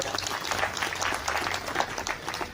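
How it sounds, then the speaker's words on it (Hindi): Audience applause at a New Year gathering hall event, a steady, moderately loud patter of many hands clapping together, continuous and without a clear rhythm. "चकमा साहब के लिए जोरदार तालियां बजाइए आप"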